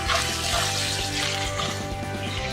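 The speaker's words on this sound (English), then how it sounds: "The splashing is from the water what the tuna has" Tuna dropped into a hot pan for chilli tuna pasta hisses and splashes as its water hits the oil, a steady close sizzle with no talking.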